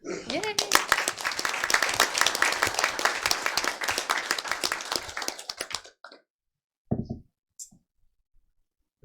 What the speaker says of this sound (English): Go ahead and applaud as they come.